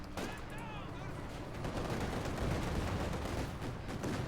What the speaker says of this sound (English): They're being hammered by the flak half track.